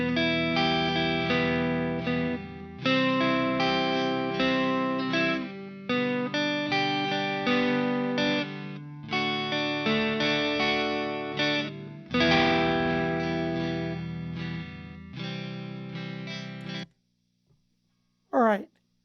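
Distorted electric guitar plays three-string chord-tone triads in a rhythmic progression with effects, loud and continuous, ending with a brief pause and a short final strum.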